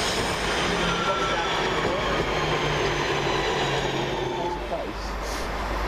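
Class 221 and 220 diesel trains, units 221140 and 220029, passing through Barnt Green railway station, a sustained loud rumble and rolling wheel roar with faint squeals, people talking nearby.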